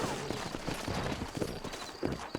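Horse hooves clip-clopping on the ground in Red Dead Redemption, a steady, fairly faint rhythm of hoofbeats under ambient noise.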